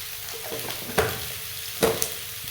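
Whole spices and winter vegetables frying on high flame for an instant pickle, a soft steady sizzle broken by a few clattering stirs of the pan.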